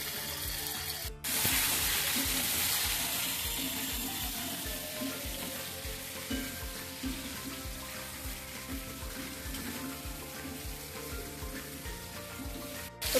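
Food sizzling steadily in a hot pan as it is stirred, a constant loud frying hiss with rhythmic scraping strokes of the spoon running through it.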